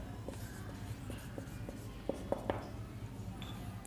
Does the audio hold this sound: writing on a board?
yes